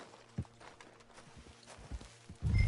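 Horse hooves clip-clop at a slow walk in the video game Red Dead Redemption 2, with a few soft, uneven thuds over faint ambient noise and a louder burst at the end.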